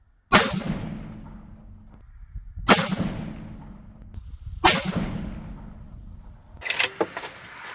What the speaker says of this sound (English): We are going to shoot number 4. I'm going to shoot the left target, top left diamond.